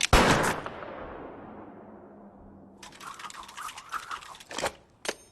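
Ship weapons fire in the space game Star Citizen: a heavy blast decays into a long rumble, followed by a rapid, crackling burst of shots with a final sharp report.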